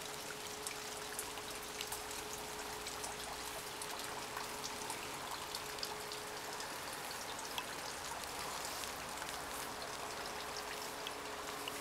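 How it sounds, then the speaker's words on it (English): Light rain falls steadily outdoors near apple and cherry trees, a soft continuous patter and trickle of drops with a faint steady hum beneath, no talking. "A little rain in Vassa today."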